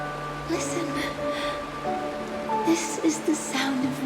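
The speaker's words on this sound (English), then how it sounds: "This is the sound of rain." Rain patters steadily in the Honkai: Star Rail event scene, a soft even hiss beneath quiet tonal music and occasional faint voices.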